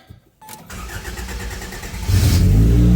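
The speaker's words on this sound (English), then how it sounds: "Hope this thing starts." A 1988 Toyota MR2 AW11 engine cranks and catches after a moment of quiet, then idles and revs up louder toward the end, close by.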